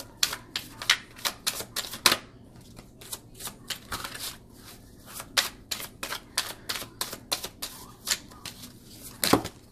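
Tarot cards being shuffled and riffled by hand during a reading, a rapid run of crisp snapping card flutters close to the listener, steady through the passage with no talking over it.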